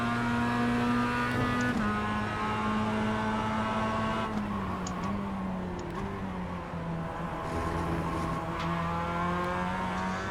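Race car engine in the iRacing sim, a steady droning note that climbs and dips with throttle and gear changes, loud and continuous with no talk over it.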